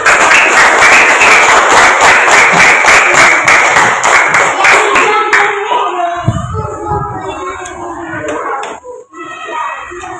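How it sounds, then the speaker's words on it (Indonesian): Clapping from a class of schoolchildren in a classroom, dense and steady for about five seconds, then thinning out into scattered claps as voices and chatter take over. "Kasih tepuk tangan"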